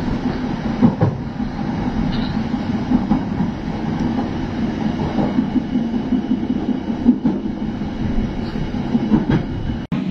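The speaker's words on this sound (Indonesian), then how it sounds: "sekarang kereta api Motis sudah diberangkatkan dari stasiun Cirebon Perujakan" Motis passenger train pulling out of Cirebon Prujakan station, its steady rolling rumble and wheel clatter continuous throughout, close and fairly loud, with no talking.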